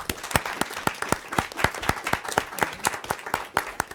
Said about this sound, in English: So can we give a round of applause to these people?